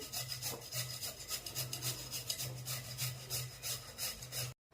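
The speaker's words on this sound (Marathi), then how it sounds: "बारीक किसण्याच्या साहाय्याने आपल्याला हा बटाटा इथं किसून घ्यायचा आहे एकसारखा" Raw potato rubbed against a fine grater, a steady rasping scrape repeating in quick, even strokes close by, ending abruptly in a brief silence.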